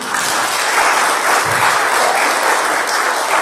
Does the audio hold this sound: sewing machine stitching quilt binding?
no